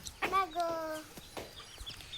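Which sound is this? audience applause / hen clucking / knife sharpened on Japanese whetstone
hen clucking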